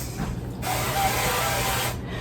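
A short, steady hiss of cooking spray onto a pan lasts about a second, close by, over faint background hum.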